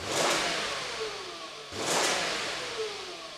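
Stock car exhaust before modification, revved twice in quick succession, each blip rising then easing back, fairly quiet and muffled.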